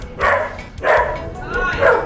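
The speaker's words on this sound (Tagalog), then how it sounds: "Hinabol ng aso." A dog barks loudly and close by in three quick, evenly spaced bursts, with a faint rumble of movement underneath.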